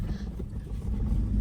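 A car engine rumbles low and steady after starting, with wind buffeting the microphone and no speech over it.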